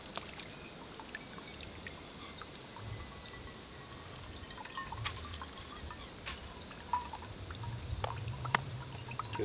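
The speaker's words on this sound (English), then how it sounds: "Then it comes out pressurized clean drinking water." Pressurized, micro-filtered drinking water from a 4x4 touring jerry-can filter setup streams out in a soft, steady trickle, faint and continuous with small splashy ticks, and no voices.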